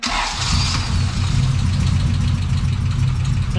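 Car engine catches after a throttle adjustment and settles into a loud, steady, clattering idle with a low rumbling throb, close up and continuous throughout.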